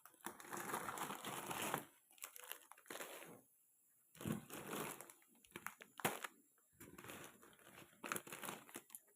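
Crinkly plastic biscuit packets are handled in quick rustling bursts with short quiet gaps between them. The crackling is close and fairly soft, with no voice over it.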